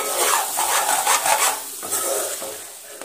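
Mutton keema fries in a heavy pot while being stirred, a close, loud scraping sizzle with rhythmic stirring strokes, easing slightly toward the end, with no voices.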